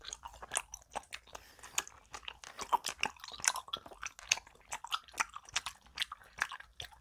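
Close, quiet chewing of a jelly with a liquid filling, a steady run of soft squishy bites and wet smacking in an even rhythm, with no talking.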